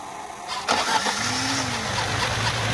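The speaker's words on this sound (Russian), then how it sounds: "Перед запуском двигателя" A car engine starting by remote autostart: a brief cranking burst, then the motor catches and settles into a steady low idle, heard at moderate distance with no talk.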